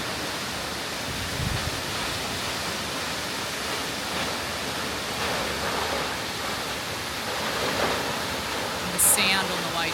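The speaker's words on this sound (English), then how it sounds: "it's the second largest single drop waterfall in the southern hemisphere." Steady broadband rush of heavy falling water from Ellenborough Falls, a large single-drop waterfall, continuous and enveloping, with a faint brief chirp near the end.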